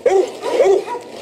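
A young male hunting dog of about eight months, out in a yard, gives several short close whimpers and soft yelping barks in a quick repeating rhythm, loud and near, with no talk over them.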